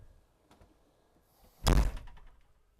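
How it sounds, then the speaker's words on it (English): A single loud thud of a door shutting on a 2025 Renegade Explorer motorhome near the mic, with a few faint clicks and rattles before it and a short fading rumble afterward. "Shut the door."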